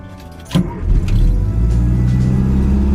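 A Peel P50 microcar engine is started on full choke. After a quiet moment there is a sudden loud catch, then a steady, close, low engine running that holds to the end.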